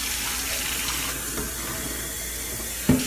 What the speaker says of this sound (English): now I'll turn the hot water on